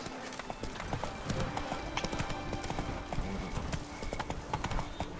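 A horse galloping in The Witcher 3: Blood and Wine, a fast continuous clip-clop of hooves under a steady bed of game ambience, with no pauses.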